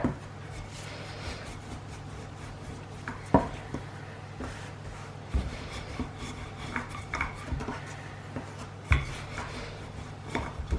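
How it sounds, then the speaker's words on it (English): Cornish pasty dough being rolled out with a rolling pin on a floured worktop: a steady low rub with soft rasping strokes, occasional sharper knocks and taps, close by with no talking. "And then just going to roll this one."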